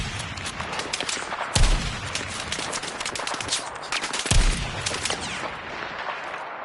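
Battlefield 6 gameplay gunfire: rapid automatic bursts crackle almost nonstop, with two heavy, booming shots standing out loud and close.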